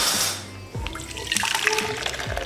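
Liquid poured into a mixing bowl while making homemade pizza dough, a steady close splashing stream with a burst of noise at the start and soft clinks as it flows.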